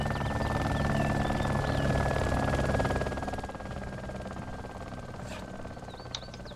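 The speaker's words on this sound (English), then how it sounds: "I hear somebody next to me in a heli" A helicopter in the video game DayZ hovers close by, a loud whirring rotor drone that drops somewhat in level midway and then carries on steadily, with small clicks and beeps over it.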